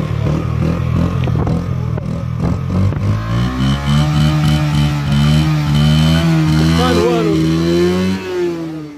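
Motorcycle, an X1000, riding on a two-lane road in cold weather, its engine droning and shifting pitch as it accelerates, loud and continuous with rushing wind noise throughout.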